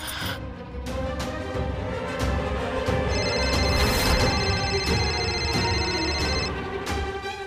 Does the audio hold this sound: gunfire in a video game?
no